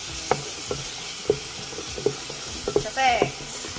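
Onions sautéing in a pan for green gram (moong dal) soup, a steady soft sizzle under a series of sharp spatula scrapes and taps against the pan, close and fairly loud, with no talking.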